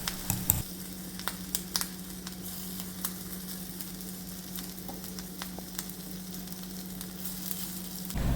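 Banana fritters (pazhampori) sizzling steadily in a hot pan, a constant close frying hiss with a low hum beneath and occasional light clicks and scrapes of handling.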